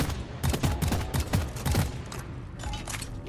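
Gunfire exchange in the Deep Rock Galactic video game, with an enemy creature shooting: a rapid string of sharp loud blasts that thins out toward the end.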